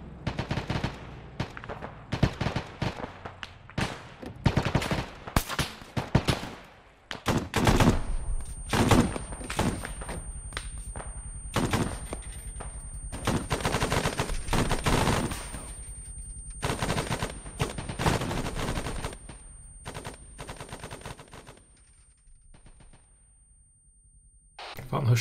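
Bursts of automatic gunfire and single shots crack in rapid, irregular volleys during a military firefight in a game, loud and close, with quieter gaps between clusters of shooting.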